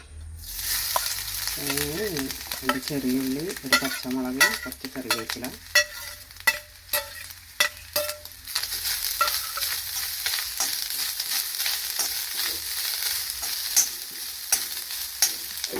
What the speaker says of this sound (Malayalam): വെളിച്ചെണ്ണയാണ് ഞാൻ ഒഴിക്കുന്നത്. തേങ്ങ നമുക്ക് വറുത്തെടുക്കാം.